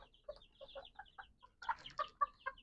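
Backyard chickens cluck in a quick series of short, close calls, growing louder and more insistent toward the end, with no talking.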